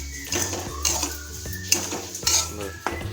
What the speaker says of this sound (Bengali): এবার সুজিটা লাল লাল করে ভেজে নেব